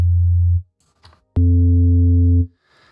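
A low synth bass tone plays as two held notes: a plain, deep hum first, then a brighter version with added higher harmonics after a short gap. Both are loud, clean and steady, with faint clicks between them.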